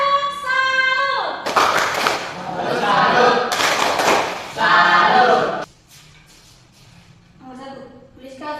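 A classroom of students performs the tepuk salut clapping pattern, a burst of loud, rhythmic group claps lasting several seconds with a short pause between phrases, while a voice talks before and after.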